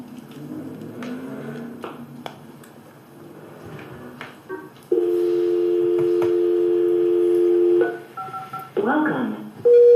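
Keypad tones ring out as a conference phone is reset, starting with murmured talk and faint clicks, then a long steady dial tone, followed by a few short separate button beeps and another held tone.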